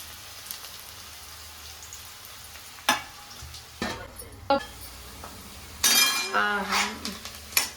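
Onions frying in a pan with curry leaves, a soft sizzle under sharp metallic stirring scrapes and clinks in irregular bursts, louder near the end.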